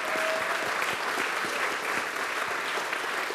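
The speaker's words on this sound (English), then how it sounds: "Let's give a big round of applause to him." Steady applause from a conference audience, a dense even wash of many hands clapping that holds at a constant level for a few seconds with no voices on top.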